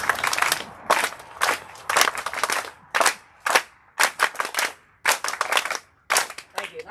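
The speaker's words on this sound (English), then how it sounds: "let's give our wonderful participants a Class A clap" An audience at an interfaith presentation doing a rhythmic group clap: sharp, loud clusters of claps in repeated patterns separated by short pauses, each burst tight and close.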